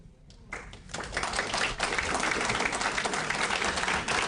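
Applause from a crowd at a youth awards ceremony swells from a few early claps into full, steady clapping that holds at a moderate level until the end.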